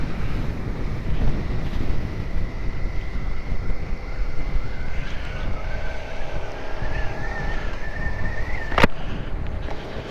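Heavy wind buffets the microphone while riding a 2020 Suzuki SV-650 motorcycle, a constant roaring rush with a faint rising engine whine underneath and a sharp knock near the end.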